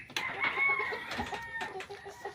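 Chickens cluck and call nearby among turkeys and ducks in a backyard flock, a run of overlapping bursts with a rooster-like crowing note, close and fairly loud.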